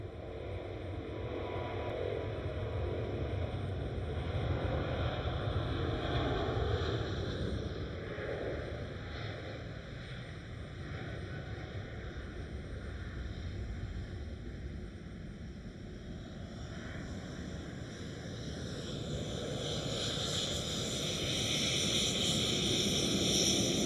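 A Boeing 777 airliner speeds down runway 24 at Amsterdam Schiphol, its broad, steady jet roar filling the air at a constant loudness and swelling slightly toward the end, with no voices over it.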